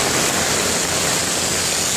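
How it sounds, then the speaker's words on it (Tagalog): Heavy typhoon rain pours down in a dense, unbroken hiss, loud and close, filling the whole moment without talk. "Sa mga oras nito, medyo malakas ang ulan."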